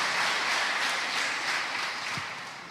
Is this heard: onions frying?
no